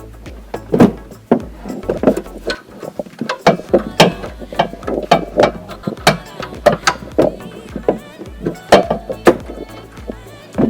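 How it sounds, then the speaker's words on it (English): Breaker bar working loose an oxygen sensor on a Chrysler Town and Country minivan, a rapid series of sharp ratcheting clicks and metallic knocks at close range, no talk. "use the breaker bar. Let's do it like that, and loosen it just like that"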